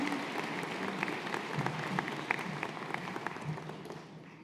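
Audience at a spring graduation ceremony applauds to welcome a graduating speaker, a steady dense wash of clapping from a large crowd that holds for several seconds and tapers slightly at the end.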